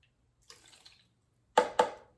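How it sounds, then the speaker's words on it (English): Almond milk is poured into a bowl while vegan banana nut bread is made: a soft trickle, then two short, close splashy bursts of liquid in quiet surroundings. "I'm just gonna pour half of it in there"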